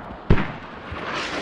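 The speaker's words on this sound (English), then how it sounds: "Siller's first round drops in." A single mortar round impacts in the military shooter Squad, a sharp boom with a brief rumbling tail, moderately distant and alone without talk.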